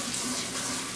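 Cold water runs from a tap into an empty seasoning packet, a steady splashing flow that stays even for about a second, close and clear, with no talking over it.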